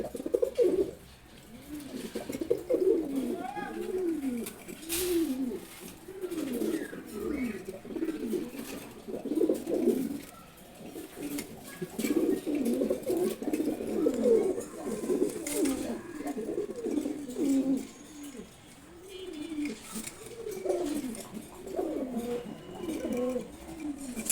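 Pet pigeons, including male birds, coo steadily in repeated throaty bursts at close range, layered and overlapping for the whole stretch with faint background noise and no talking.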